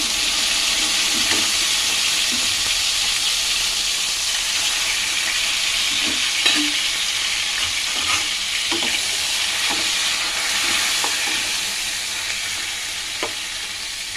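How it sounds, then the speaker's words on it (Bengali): Marinated meat fries in white oil in a pan for biryani, giving a loud, continuous hissing sizzle up close, with occasional soft spatula scrapes and pops. "এখন আমি এই সাদা তেলের মধ্যেই আমি ম্যারিনেট করা মাংসগুলো দিয়ে দেবো।"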